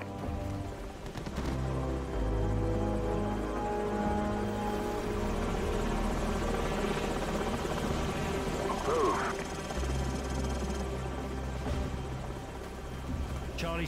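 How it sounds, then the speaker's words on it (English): Enemy helicopters in the video game Call of Duty 4: Modern Warfare thump steadily and loudly throughout, with a deep rotor drone under ongoing game sounds and occasional voice chatter. "Enemy helicopters."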